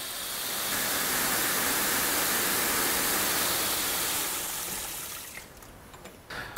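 Water pours steadily into a bucket of microfiber towels, a close, even rushing hiss for about five seconds that then cuts off, leaving faint handling noises.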